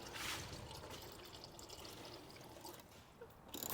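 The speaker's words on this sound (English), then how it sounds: "So we're going to drain the oil out of that as well." Engine oil draining from the oil cooler of a Mercedes C63 into a measuring jug, a steady close trickle and pour of liquid lasting a few seconds.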